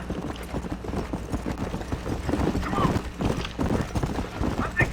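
Horse hooves clip-clop steadily in Red Dead Redemption, a rhythmic trotting gait under game ambience with people talking over it.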